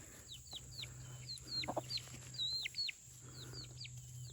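Chickens cluck and chirp softly on a homestead, with short, scattered calls over a steady low hum and no talk.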